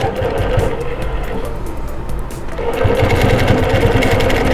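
Longarm quilting machine stitching a hand-pieced quilt, a loud steady fast mechanical whir with rapid needle chatter that briefly eases, then picks up again, alone without talk.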